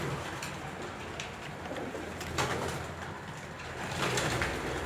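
Young pigeons coo softly in a loft, low murmuring calls repeating under a constant hiss of background noise, faint and fairly close with no talk over them.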